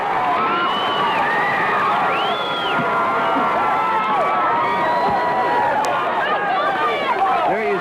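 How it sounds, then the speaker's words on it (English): Crowd at a 1984 state Class B high school boys basketball game during a timeout, a dense steady roar of many voices with shouts, whoops and chatter, loud and continuous throughout. "There you see the crowd having a good time here tonight"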